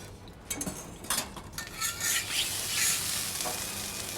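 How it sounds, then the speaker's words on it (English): Noodles sizzle in hot vegetable oil in a pan, with a steady frying hiss and soft stirring scrapes, close and fairly loud, and no voices. "Just put the noodle on first, let's loosen them up."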